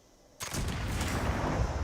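A single heavy, explosive boom from a Berserker's explosive musket in Fallout 76, an abrupt blast after near silence followed by a dense, rumbling roar that sustains to the end.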